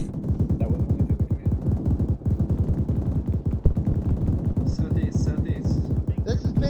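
Sustained rapid gunfire in a military video game battle with a dense, continuous rattle of automatic bursts filling the whole stretch, with a few higher tonal calls or effects near the end.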